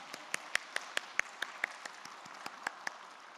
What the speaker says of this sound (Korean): 우리 귀한 하나님의 일꾼들에게 큰 박수로 축복해 주시기 바랍니다